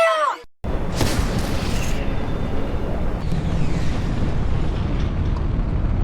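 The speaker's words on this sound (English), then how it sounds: "Seismic charges." A seismic charge explosion sound effect: a short wavering electronic tone, then a sudden instant of silence before a deep, loud, sustained blast rumble that roars on for several seconds.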